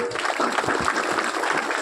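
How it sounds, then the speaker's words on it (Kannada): Audience at a village meditation session clapping together, a steady dense patter of many hands sustained throughout without voices. "ಅದಕ್ಕೊಂದು ಚಪ್ಪಾಳೆ ಬರಬೇಕು"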